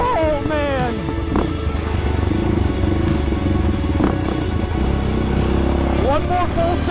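A Yamaha Raptor 700 ATV with a blown head gasket revs hard at full throttle, its loud engine note rising and falling with gear changes, while people shout excitedly over it.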